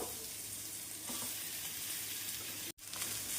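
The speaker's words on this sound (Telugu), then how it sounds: "ఇప్పుడు నూడిల్స్ వేసుకుందాం" Street-style chicken noodles hitting a hot pan with chili powder and coriander powder, giving a steady, loud sizzle with stirring throughout and a brief dropout near the end.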